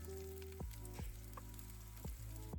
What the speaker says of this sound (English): Add about a tablespoon of olive oil to a pan over medium-high heat, then layer some pepperoni and let it cook for a minute or two.